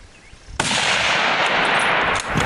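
A hunting rifle shot cracks out close and loud, followed by a long, sustained rolling blast that fills the air before dipping and surging once more.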